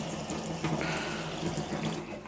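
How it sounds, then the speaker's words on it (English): Tap water runs steadily into a sink during the rinsing of stripped metal, plastic or resin Warhammer miniatures, a close continuous splashing hiss with small bursts as the flow is disturbed. "Hopefully that water's not too loud in the microphone."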